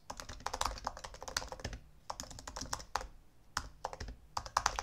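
Fingers tap a computer keyboard in quick bursts of clicking keystrokes with short pauses between runs, close and fairly quiet, with no voices over it.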